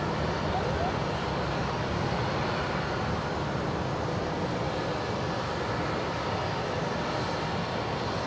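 A Velocity airliner departing Brisbane Airport for Adelaide, a steady broadband jet roar heard from a distance, sustained and even throughout with no distinct peaks.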